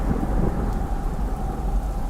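Heavy rain pours down in a thunderstorm, a dense steady hiss of falling water over a deep rolling rumble of thunder, loud and continuous with no voices.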